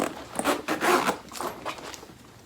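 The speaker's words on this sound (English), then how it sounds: "And then to actually open the bag, it's a zipper." A zipper being drawn open on a black velour travel bag, a close, rasping slide in several quick bursts that tapers off toward the end, with no talking.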